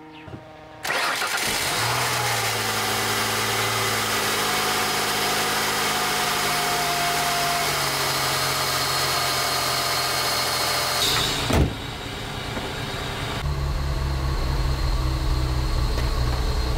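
A Ford Mondeo engine with an air intake leak starts up and runs at a rough, oscillating idle. The steady, close engine rumble shifts in pitch and level near the end.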